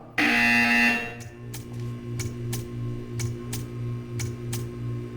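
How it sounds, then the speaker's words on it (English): A loud electronic buzzer in the video game Portal 2 blares for about a second, followed by a steady low hum with a series of sharp, evenly spaced ticks. "When you hear the buzzer, stare at the art."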